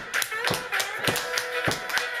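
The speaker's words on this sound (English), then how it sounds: "Stomp your feet, clap your hands." A church congregation claps hands and stomps feet together in a steady rhythm, about seven sharp beats over two seconds, with singing voices underneath.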